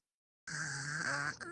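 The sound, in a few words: person snoring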